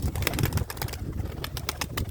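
Pigeons coo in low, throaty bursts close by, with rustling and scattered wing flutters around them and no talking.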